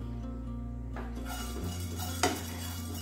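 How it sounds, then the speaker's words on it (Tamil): Coriander seeds dry-roasting in a pan while a spoon stirs them, with soft scraping and a sharp metallic clink near the end over a low background hum. "தனியாவை வறுத்துக்கோங்க"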